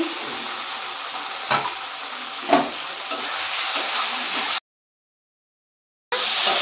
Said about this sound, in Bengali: এর মধ্যে আলুটা, যে ভেজে রাখা আলুটা দিয়ে দিচ্ছি